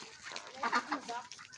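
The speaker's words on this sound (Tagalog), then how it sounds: "Duckling, duck." Ducks with ducklings quack and cluck softly at a farm fish pond, a short burst of nasal calls close by with no talk over them.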